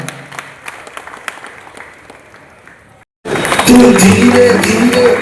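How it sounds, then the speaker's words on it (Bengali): At a grand opening ceremony, an audience breaks into loud, sustained applause after a quiet stretch with faint background sound. "সবাই করতালি দিয়ে চিরস্মরণীয় করে রাখবেন এই মুহূর্তকে"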